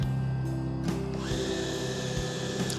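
An electric motor whirs as a Minn Kota Ulterra trolling motor trims down, a steady mechanical hum with a pitch shift partway through and a few small clicks.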